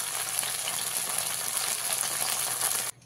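Okra sizzles steadily as it fries in hot oil for a yogurt bhindi masala, a loud, continuous crackle close to the pan that cuts off abruptly at the end.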